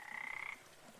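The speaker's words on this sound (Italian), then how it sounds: "Sulle foglie di ninfea ci sono alcune rane verdi che cantano una canzone della notte." Green frogs croak at night on lily pads, a single short rattling croak lasting about half a second, fairly faint and alone against quiet background.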